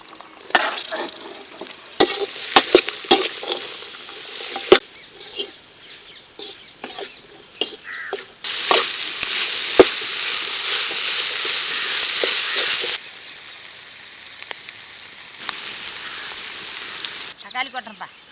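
Onions frying with ginger, garlic, green chillies and curry leaves in a village pan, bursts of loud sizzling alternating with scraping stir strokes, close by, with occasional speech and faint background sounds between bursts.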